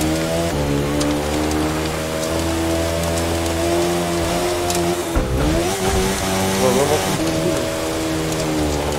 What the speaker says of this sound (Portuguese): A minha moto ela tem um ronco de tipo Harley, mano.